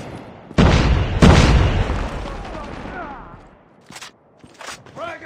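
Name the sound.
grenade explosion in a video game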